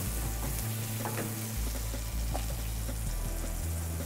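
Onions for pancit palabok sizzling in a pan, a steady frying crackle with occasional stirring scrapes and a low background hum.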